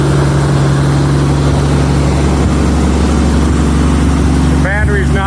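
A 1933 Auburn V12 boat tail Speedster, first started after decades in storage, idles high with a steady, loud low rumble and constant drone throughout; a voice speaks briefly near the end.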